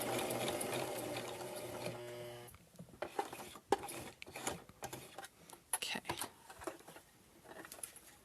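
A home sewing machine stitches a scarf face mask, running in a steady close whir for about two seconds, then stopping to leave scattered clicks and handling taps of fabric and pins.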